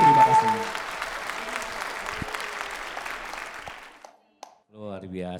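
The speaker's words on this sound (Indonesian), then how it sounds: "Sekali dong tepuk tangan dong." Audience applause at a Jakabaring gathering singing old nostalgic songs, a dense burst of clapping that fades over several seconds before a voice briefly speaks at the end.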